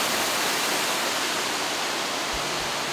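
A waterfall pours near a campsite in coastal British Columbia, a dense, unbroken roar of rushing water that fills the scene with no voices.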